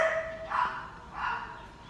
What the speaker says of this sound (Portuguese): Tem tanto cachorro nesse condomínio e a Ju não para de conversar com eles.